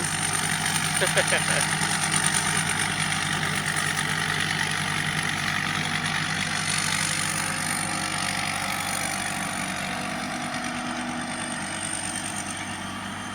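A 1.7-ton mini combine harvester idles with a steady low engine drone and a constant high whine, close by and gradually fading slightly, with someone talking over it.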